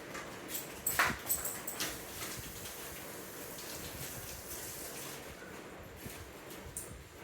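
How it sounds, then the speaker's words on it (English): Tap water runs steadily as hands are rinsed at a kitchen sink after handling pecan-stuffed dates, a continuous soft gush with a few brief splashes near the start. "I'm just gonna go rinse these hands really quick."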